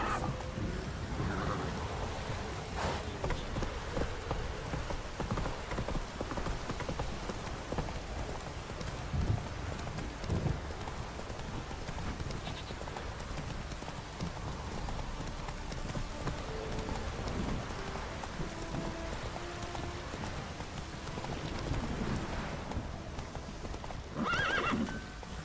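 A horse gallops in The Witcher 3 in a steady run of hoof clip-clops, with a neigh and faint thunder and rain underneath. A voice speaks briefly over the hooves.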